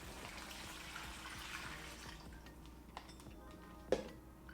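Water poured into a Ziploc bag, a soft continuous pouring trickle that fades out partway through, followed by faint crinkles and a small tap, quiet and close.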